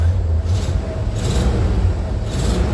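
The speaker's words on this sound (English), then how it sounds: "It's really not a very loud bus at all." A bus engine idles and runs steadily up close, a continuous low rumble with no voices over it.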